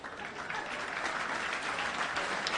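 An audience claps together in a steady, moderately distant wash of applause, with no voices over it.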